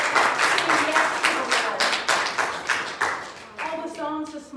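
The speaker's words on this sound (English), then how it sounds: "Let's give the Lord a clap offering this morning" Church congregation clapping together at a Sunday morning service, a dense run of roughly even, rhythmic claps from many hands filling the room, with a faint voice or tone near the end.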